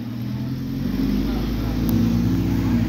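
A Fiat Uno car engine idles steadily at a fuel station, a constant low rumble with a slight swell near the end and no talk over it.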